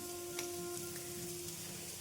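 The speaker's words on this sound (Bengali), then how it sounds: "একটু বেশি করে পেঁয়াজ দিয়ে পটল দিয়ে একটু অন্যরকম আর কি ভাজা" Pointed gourd (potol) frying in a pan with plenty of onions, a steady, quiet, even sizzle that holds for a couple of seconds without any voices.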